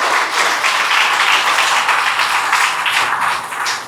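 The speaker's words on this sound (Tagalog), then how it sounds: "lakasan po natin yung palakpak natin sa ating Diyos" A church congregation applauds in a loud, dense, continuous burst of many hands clapping, which holds steady before easing slightly at the end.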